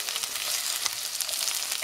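Pepper and garlic sizzle in a hot pan for a spicy Filipino banana sauce, a steady close crackling fry with no voices.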